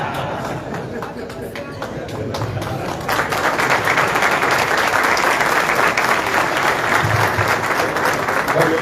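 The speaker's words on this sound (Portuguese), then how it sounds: "Eu pensei que fosse para mim as palmas." Applause from a gathering of elected federal deputies, quieter and mixed with chatter at first, then swelling into a fuller, steady clapping that carries on to the end.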